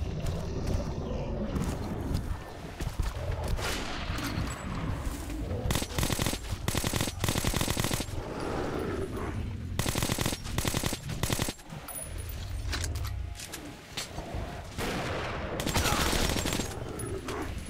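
Sustained automatic gunfire in the video game Metro: Last Light, dense bursts of rapid shots filling the scene with brief lulls between volleys, loud and close throughout.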